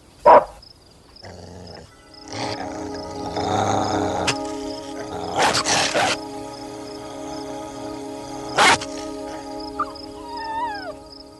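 Dog barking indoors in a house, a few sharp loud barks scattered between other sounds and brief talk.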